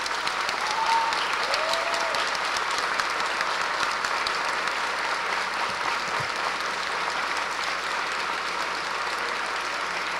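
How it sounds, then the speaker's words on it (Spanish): A crowd gives sustained applause for two brave women at a university gathering, dense clapping from many hands that stays loud and even for about ten seconds, with a faint murmur. "dos valientes damas para las cuales yo pido un fuerte aplauso"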